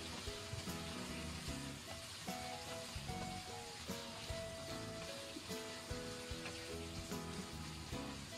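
Braised pork being stir-fried with a few drops of dark soy sauce in a wok, a faint continuous sizzle and crackle with scattered light clinks, quiet and without talk.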